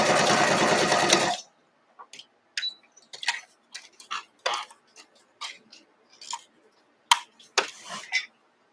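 A sewing machine stitches a quilt block in a short, fast burst at the start, followed by quiet clicks and handling noises of fabric and tools.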